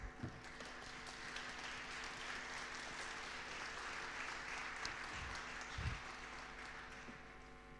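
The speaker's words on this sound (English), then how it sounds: "Please give him a big applause" An audience at a wood-themed startup pitch event applauds a school director, a soft, distant and fairly even patter of many hands under a steady hum, with a few low thumps near the end.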